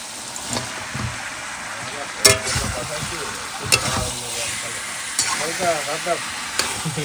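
Chicken frying in a pan with a steady sizzle, punctuated by several clanks and scrapes of stirring, while voices talk nearby.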